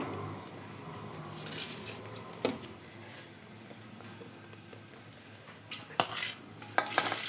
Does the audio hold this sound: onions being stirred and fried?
yes